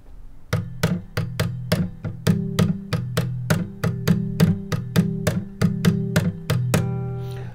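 Muted guitar strings struck with an Engle and mixed with its natural bounce, producing a steady galloping horse-trot pattern of damped plucks with faint pitched tones, lasting several seconds after a brief pause.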